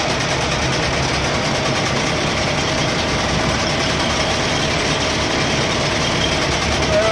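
A tractor engine runs steadily during evening hay mowing, its continuous rough mechanical drone holding unchanged and fairly loud throughout, with no voices.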